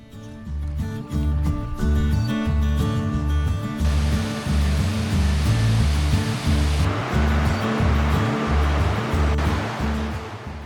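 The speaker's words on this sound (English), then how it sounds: "The hike climbs alongside Hat Creek through fragrant fir forests with the sound of cascading water guiding the way." Cascading water of Hat Creek rushing beside a trail through fir forest in Lassen Volcanic National Park, a steady broadband roar with rhythmic music playing over it throughout.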